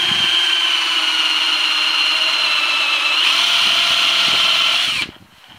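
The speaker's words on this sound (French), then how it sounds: "En deux fois parce que le fraisoir s'encrasse." A countersink bit bores holes in wooden shims for mounting a gutter, making a loud, steady power-drill whine for about five seconds before cutting off abruptly.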